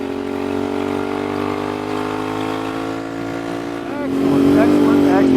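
A Royal Enfield Bear 650 motorcycle fitted with a Dustland shotgun exhaust pipe cruises along with a steady, loud, tuneful drone, then swells into a higher rev near the end, with some wind noise.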